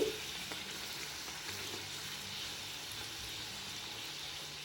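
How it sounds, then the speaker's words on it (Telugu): Aloo puris fry in hot oil with a steady, soft, close sizzle that holds evenly throughout with no one talking. "అన్నీ ఇలా వేయించుకొని పక్కన పెట్టుకోండి."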